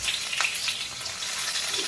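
Onions sizzle and fry in hot oil tempered with mustard seeds and cumin for sambar, a bright, steady crackle close up with faint stirring scrapes and no voices.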